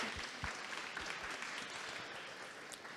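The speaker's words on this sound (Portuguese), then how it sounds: "Palmas." Applause from an audience at a panel talk on the future of the creative economy, a steady wash of many clapping hands at moderate volume with no talk over it.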